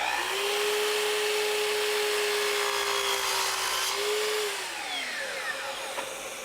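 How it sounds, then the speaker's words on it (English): A power saw cuts a wooden board at a 30-degree angle, a steady whining motor tone through the cut that drops in pitch as it spins down, with no one talking. "I'm going to trim the end of my board at 30 degrees and then just make repetitive cuts"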